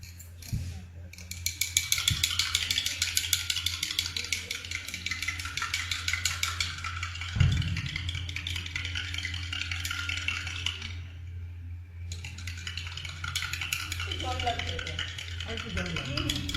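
A spoon stirs fiber supplement into a glass of water, a steady run of rapid clinking and scraping against the glass that pauses briefly and then resumes, with people talking nearby.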